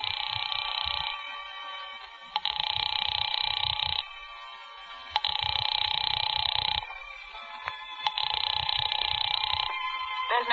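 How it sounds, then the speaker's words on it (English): A telephone ringing in an old suspense radio drama, three long electronic ring bursts separated by short pauses, steady and fairly loud with no voices over them. "Shall I keep ringing, sir?"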